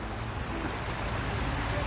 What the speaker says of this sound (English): this little sanctuary that we got going on with the waterfall